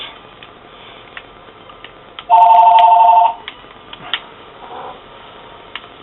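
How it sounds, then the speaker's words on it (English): In the survival horror game Resident Evil Revelations 2, a telephone rings once with a loud electronic trill lasting about a second, over a low ambient background with scattered small clicks and taps. "The phone ringing."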